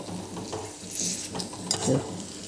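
Stuffed okra curry (bharela bhinda) cooks in a pan, a soft continuous sizzle broken by scraping stirs and light clinks of a spoon against metal, close and alone.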